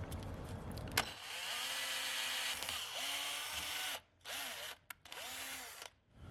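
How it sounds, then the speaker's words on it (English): A power drill whines steadily while working on a 1955 car, with a few brief pauses and restarts toward the end. "Actually, the drill bit's doing pretty good."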